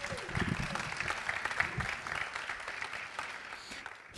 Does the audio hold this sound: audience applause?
yes